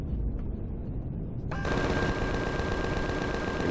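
Sustained automatic gunfire in the video game Empyrion, a dense steady rattle of rapid shots that kicks in abruptly partway through and holds loud to the end over a low game rumble.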